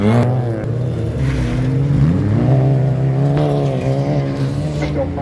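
Honda Civic racing hard in a youth-class autocross heat at Eppe, engine note loud and close, rising and falling steadily through shifts, with faint other cars behind.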